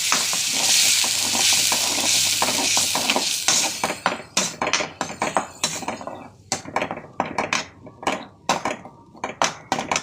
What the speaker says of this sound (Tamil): அதுக்கப்புறம் இந்த மசாலா தூக்கி போட்டு கொஞ்சம் வதக்கிக்கலாம்.